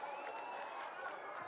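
Audience at a political rally in Telangana applauding the BRS party chief, a steady wash of distant clapping and crowd noise that stays even and fairly faint throughout.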